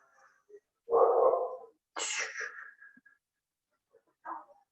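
Dog barking somewhere near a classroom during a first-year math lesson, a couple of short separate barks and a yelp with quiet gaps between them, heard alone at moderate distance.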